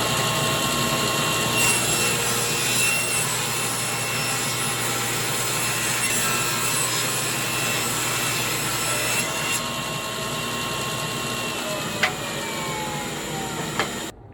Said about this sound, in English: Now I'm just going to rip 2 pieces.